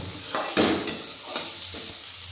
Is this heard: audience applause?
no